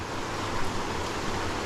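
A tiny mountain creek spills over a small mini waterfall, a steady close rushing wash of water filling the whole moment with no voices.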